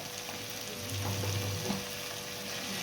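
Capsicum stir-fried in a pan with salt: a quiet, steady frying hiss with a low stirring scrape in the middle and no voices.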